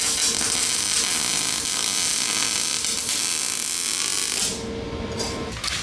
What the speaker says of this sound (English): we're committing to our first weld, so go ahead and hit it, buddy